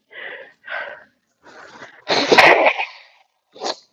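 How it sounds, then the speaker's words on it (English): Someone blows their nose close by in a series of short snuffling puffs, then a long, forceful honk and a final quick blow. "I have to blow my nose."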